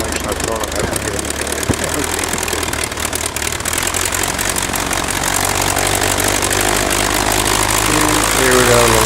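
The engine of a 1912 Taube aircraft runs with its propeller turning outdoors in wind, a loud, dense, continuous roar that builds slightly toward the end while people talk over it.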